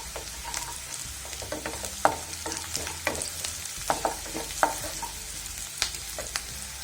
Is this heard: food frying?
yes